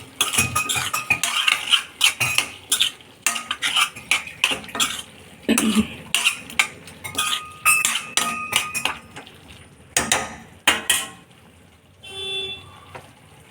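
A spoon repeatedly scraping and clinking against a pan while coriander powder and garam masala are stirred in, a steady run of close metallic knocks and scrapes with no talking.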